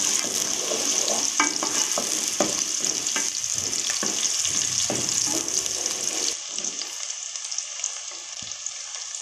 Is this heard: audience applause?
no